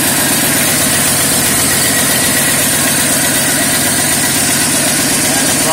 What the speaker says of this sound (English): Just a straight, quiet, smooth running motor.